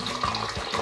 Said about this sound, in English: So there's about 3 cups of water in there.